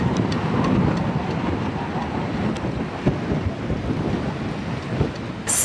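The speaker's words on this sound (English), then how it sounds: "What a great way to spend a rainy day." Rain and gusting wind on a blustery day aboard a boat at anchor in La Paz, a constant dense rush of noise with buffeting on the microphone.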